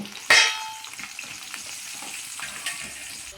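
Dry red chillies dropped into hot oil in a pan for Karnataka-style bisi bele bath, giving a sharp loud sizzle at the start that settles into a steady crackling fry.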